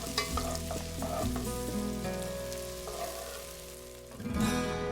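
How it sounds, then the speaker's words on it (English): Sliced white onion and chopped garlic fry steadily in a pan while being stirred, a close, continuous sizzle with occasional scraping bursts from the stirring. "add some chopped garlic and stir it all around until it's really fragrant"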